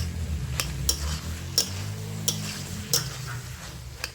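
Potatoes stirred and fried in a wok, with soft low sizzling under a series of sharp spatula clinks and scrapes against the metal at irregular intervals.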